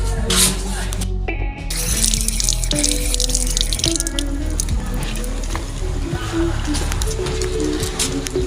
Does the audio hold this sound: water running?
yes